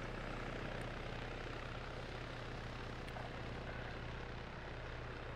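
A helicopter flies in the video game Arma 3, a low, steady rotor and engine drone that stays constant and fairly faint, with a few faint high clicks and no talk over it.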